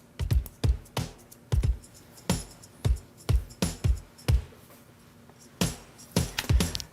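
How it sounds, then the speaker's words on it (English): Cajon layered with a snare sample, punchy close hits in a groove with brighter, crackling snare-like attacks on the backbeats, sounding closer to a drum kit, with a brief pause before the pattern resumes. "and with the samples it sounds like this."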